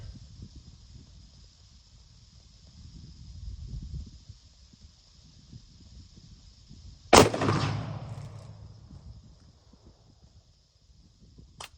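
A single sharp rifle shot from a new rifle fired at a target rings out loud and close, its blast decaying into a brief echo over a quiet outdoor background with a steady insect-like hum.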